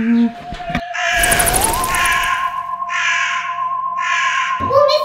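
A Halloween decoration crow gives out repeated electronic caws in several loud bursts, backed by a steady tone and a rattling burst, with no talking over it.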